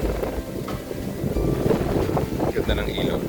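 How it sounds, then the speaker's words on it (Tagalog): Wind gusts over the microphone at a car camping campsite in a quiet part of Tanay, a low rumbling rush heard steadily with voices talking nearby. "Medyo mahangin dito ngayon"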